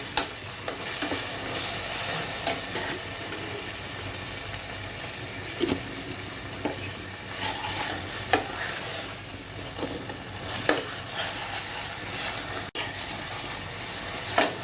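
Ground spices fry in a pan of oil for a chicken curry, a steady sizzle broken by periodic scrapes and clinks of stirring, close and alone without voices.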